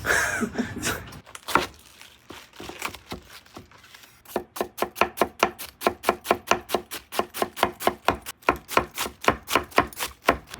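Handmade Japanese kitchen knife slicing through food on a cutting board, a long run of crisp, evenly spaced chops that quicken into a steady rhythm, close and clear with no talk.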